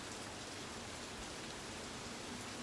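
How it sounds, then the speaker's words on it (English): Light rain falls steadily as Hurricane Dorian approaches, a constant soft hiss of drops hitting surfaces, even and unbroken, with no voices. "But as of right now, we just have a little bit of rain,"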